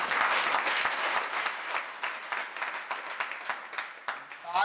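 An audience at a Jain religious discourse in Damoh applauds: dense, steady clapping from many hands that holds throughout and thins slightly toward the end, with no voices above it.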